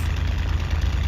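A Hawker Hurricane's engine idles in the Cliffs of Dover flight game, a steady, deep low rumble with even throb, loud and close and running alone without pause.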